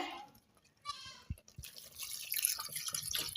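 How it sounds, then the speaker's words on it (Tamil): Water pours and splashes into a pot of mutton gravy with a few drips and a soft trickle building steadily, close by, no talking. "கிரேவிக்கு தேவையான அளவுக்கு தண்ணி சேர்த்திக்கலாங்க"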